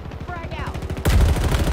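Rapid automatic gunfire from the video game Halo Infinite rattles steadily and turns louder and denser partway through, with game voices faintly underneath.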